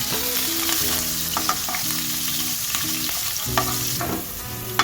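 Curry leaves and green chillies sizzling in hot tempering oil for a radish and radish-greens stir-fry, a loud continuous fry with stirring scrapes and a few sharp pops.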